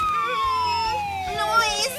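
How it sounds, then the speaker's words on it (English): A siren wails with a slowly falling pitch, loud and close, over a low rumble of traffic and music. "The sirens are bothering you?"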